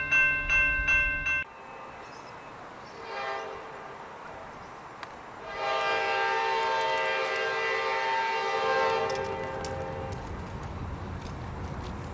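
A K5LA horn on Amtrak locomotive 23 leading the westbound Sunset Limited: a short loud chord sounds first, then after a pause comes a long sustained blast with some shifting tones, over a distant rumble.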